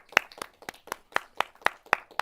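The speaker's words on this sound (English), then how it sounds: "Round of applause for her, Miss Mona Lush." Applause for a guest being brought out on a talk show: about nine sharp, evenly spaced claps, close and fairly loud, with no talk over them.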